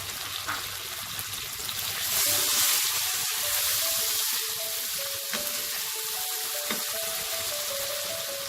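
Masala paste with cumin powder, chilli powder, salt and chopped onion frying in oil for a pointed gourd and prawn curry, a steady close hiss and sizzle with occasional soft stirring, swelling louder midway.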